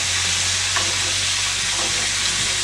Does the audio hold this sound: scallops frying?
yes